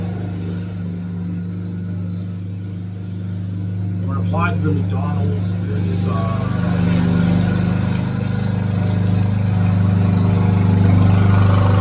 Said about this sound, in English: Excuse the noise, someone's cutting grass.